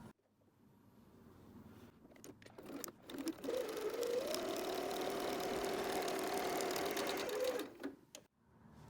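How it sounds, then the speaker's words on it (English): A sewing machine whirs steadily for about four seconds of stitching, starting and stopping cleanly, with quiet handling noises before and after. "we're going to go to our sewing machine and sew just across this top folded edge"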